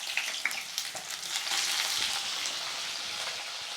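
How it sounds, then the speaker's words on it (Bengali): Onions hitting hot oil in a pan while cooking chicken bhuna, a bright steady sizzle and crackle with a few sharper pops at the start, close and moderately loud with no voices. "এখন দিয়ে দিচ্ছি পরিমাণ মতো পেঁয়াজ"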